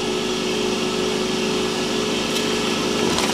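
Steady, loud machine whine of a power sander working over a wooden spinning top, continuous and close with no talk.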